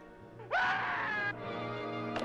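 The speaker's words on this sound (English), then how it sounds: "how the scream totally cut off too" A woman's high, sustained scream in a horror movie rings out loud for under a second, then stops abruptly, leaving a quieter lingering drone behind it.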